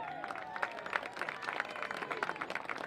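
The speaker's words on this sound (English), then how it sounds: "Fans, let's give a round of applause to Gabby Madeline, who is graduating in May." Stadium fans clap for a graduating senior at a women's college soccer match, Bowling Green State versus Kent State; scattered, moderately distant applause with sharp individual claps rising above a crowd bed.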